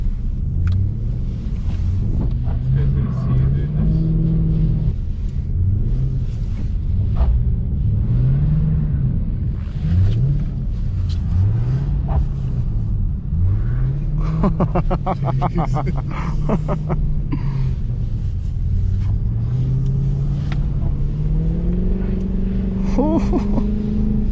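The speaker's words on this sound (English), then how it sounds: "best rear wheel drive car I've ever slid" A Mercedes C63 AMG engine revs up and down in repeated sweeping surges, rising and falling rhythmically as the rear-wheel-drive car drifts on snow at night, with occasional voices over the steady rumble.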